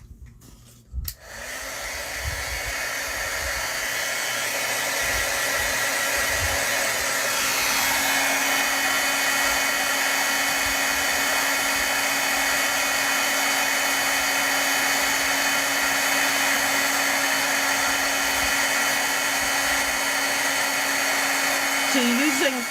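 A heat tool melting clear embossing powder for Stampin' Up! card stamping switches on with a click and blows in a steady, loud whirring hiss that runs unbroken for about twenty seconds.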